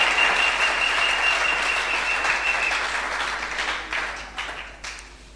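A church congregation applauds during a worship service, a dense, sustained wave of many hands clapping that gradually thins and tapers off.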